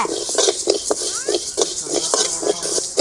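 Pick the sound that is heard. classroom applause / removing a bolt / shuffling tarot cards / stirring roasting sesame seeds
stirring roasting sesame seeds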